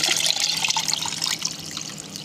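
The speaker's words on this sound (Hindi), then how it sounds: "मैं इसके अंदर और पानी डालूँगी" Water pours steadily into a jug of homemade detox water, a continuous bright trickling splash that runs alone at moderate volume and eases slightly toward the end.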